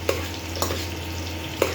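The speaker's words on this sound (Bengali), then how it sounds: "এটা কত সময় লাগবে একটা বেগুন ভাজি হতে?" Eggplant slices fry on an induction cooker with adjustable power, making a steady close sizzle. Three sharp stirring scrapes and clicks punctuate the frying.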